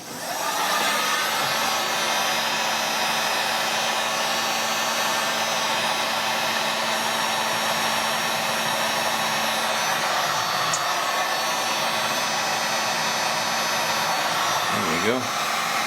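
A heat gun blows steadily as it shrinks heat shrink tubing onto a wire, a loud continuous airy roar with a faint tonal hum that runs unbroken for the whole stretch before a brief dip at the very end.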